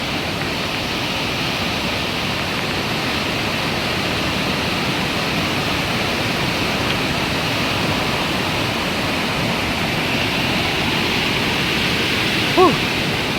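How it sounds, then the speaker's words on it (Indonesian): A river swollen after two days of rain rushes past a hillside house, a steady, dense roar of heavily flowing water filling the whole stretch at constant loudness, with no voices over it. "Airnya sangat deras sekali."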